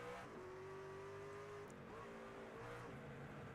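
A race car braking hard and shifting gears at Sonoma in the iRacing sim: a steady, close engine drone that drops in pitch about halfway through as the gears change, with no talking.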